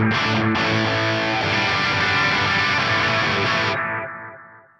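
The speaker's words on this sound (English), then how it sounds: "turns it into a massive spatial delay as that delay pans around" A distorted, chorus-tinged instrument passes through a delay whose echoes pan around in space. The sound stays loud and dense with no talking, then cuts off near the end to a thin fading echo tail.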